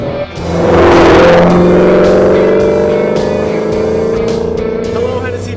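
A Hennessey supercharged Mustang GT350R with an 850 hp engine roars loudly on a race track, its revving engine swelling up close and then holding a strong, sustained drone.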